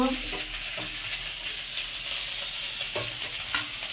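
Chopped onion and green chili frying in white oil in a wok for a prawn dish, giving a steady, close sizzle with light stirring scrapes throughout.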